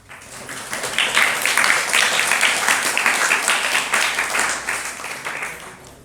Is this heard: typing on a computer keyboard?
no